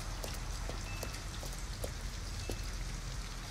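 Rain pours down outside an abandoned house in the video game Detroit: Become Human, making a steady patter with scattered louder drops striking nearby. No voices are heard.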